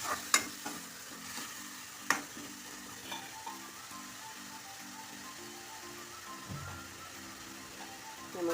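Banana flower and green gram stir-fry sizzling in a pan as water is poured in, a steady close frying hiss with a few sharp clinks of a utensil against the pan.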